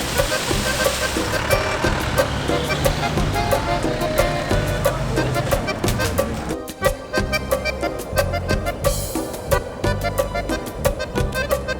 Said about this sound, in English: this is the same bus I took 13 years ago that started it all.